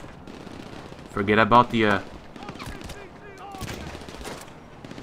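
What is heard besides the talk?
machine gun gunfire in video game Grand Theft Auto Online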